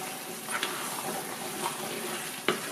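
Chicken biryani masala stirred in a frying pan, a steady low sizzle with a few soft scrapes and taps of the spoon, close and moderately quiet, no talking.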